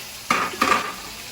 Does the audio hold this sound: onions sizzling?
yes